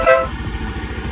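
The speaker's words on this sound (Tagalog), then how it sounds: "Busina." A Suzuki Skydrive 125 motorcycle horn gives one short, bright toot near the start, followed by a low idling engine rumble.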